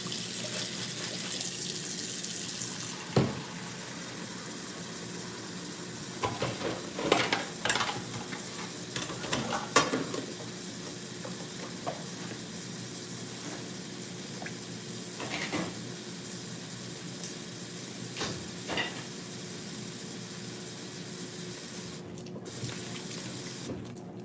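Running sink water pours steadily from a faucet while caked-on dishes are scrubbed and rinsed, with scattered clatters and knocks of dishware rising over the flow, close and moderately quiet.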